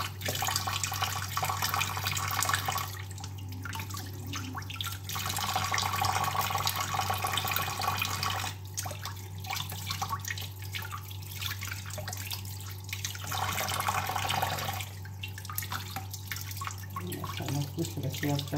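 Tap water runs steadily into a sink while sardine fish are washed by hand, with splashing and dripping that rises and falls as the fish are handled.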